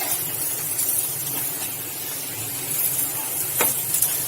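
Brinjal slices fry on a hot tawa, giving a continuous dense sizzle with a brief scrape partway through, close and steady with no voices.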